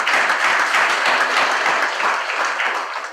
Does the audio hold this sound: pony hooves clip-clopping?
no